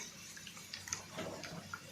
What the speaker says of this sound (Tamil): இதுக்கு தேவையான தண்ணியெல்லாம் ஊற்றிக்கிறோம்